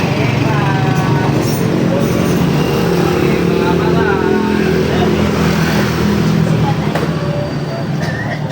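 A Motor Star motorcycle engine runs loudly and steadily close by, a continuous drone that never lets up, with a voice speaking over it.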